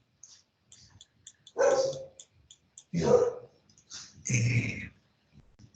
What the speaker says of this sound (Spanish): ahí están, los perros están ahí